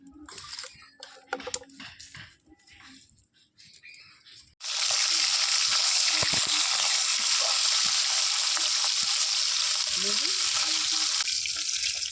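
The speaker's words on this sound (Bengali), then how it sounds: "এবার কড়াইতে তেল দিয়ে বালকুল মাছগুলো ভেজে নেব।" Balkul fish coated in turmeric and chilli frying in hot oil in a kadai, quiet handling noises at first, then a sudden loud, continuous crackling sizzle that carries on steadily.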